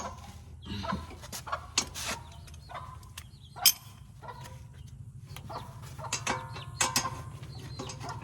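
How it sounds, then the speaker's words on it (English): Several chickens cluck and squawk in scattered bursts over a low mechanical hum, some calls sharp and close, others softer. "my chickens are making noise"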